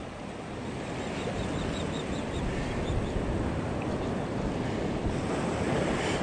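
Ocean surf breaking steadily on a Texas Gulf beach at Padre Island in winter, a continuous loud wash of waves with wind buffeting the microphone throughout.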